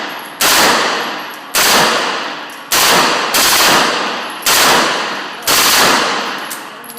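Six loud gunshots from a rifle at an outdoor shooting range, each a sharp crack followed by a decaying echo, spaced roughly a second apart in a slow, even rhythm with no talking.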